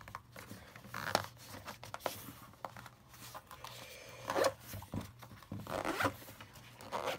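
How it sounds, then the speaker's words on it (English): The zipper on a Kobalt electronics repair kit case is pulled closed in several separate drags, each a close, scratchy rasp with short pauses between, and no one talks. "And zip it up."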